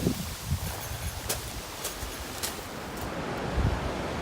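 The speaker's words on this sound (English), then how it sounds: "These waves are getting a lot stronger." Ocean waves wash steadily onto the rocky shore of Olympic National Park's coast near high tide, a broad continuous roar with wind buffeting the microphone and a few soft thumps, no voices.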